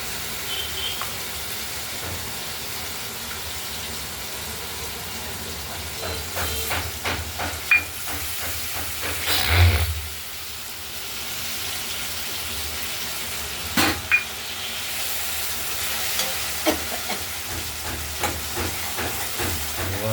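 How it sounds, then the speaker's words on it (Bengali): Spice paste with turmeric tipped into a wok of frying potatoes for a katla fish curry, giving a steady hissing sizzle that swells briefly with a louder burst midway, then settles into a continuous fry with occasional crackles. "মশলাটা আমরা আগে হলুদ দিয়ে মশলাটা তুলে রেখেছি এটা আমরা দিয়ে দিলাম কড়াইতে"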